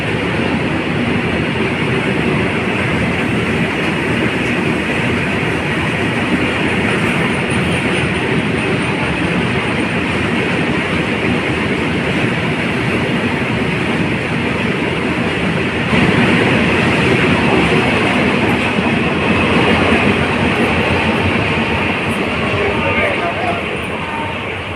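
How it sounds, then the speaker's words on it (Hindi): An oil tanker freight train hauled by a WAG 7 electric locomotive passes through a railway station, a loud, steady rumbling roar with wheel noise that holds throughout without clear breaks. "ये ऑयल रेक WAG 7 के साथ पंडित दीनदयाल उपाध्याय की ओर जाता हुआ।"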